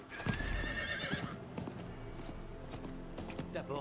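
A horse in the video game Diablo IV whinnies loudly near the start with clip-clopping hooves, then fades into quieter game sounds and occasional soft effects, with someone speaking faintly in the background.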